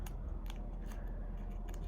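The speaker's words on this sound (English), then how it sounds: "But very nice and careful with the scissors." Scissors cut paper for a Halloween lantern craft in a few crisp, close snips spaced about half a second apart over a quiet indoor background.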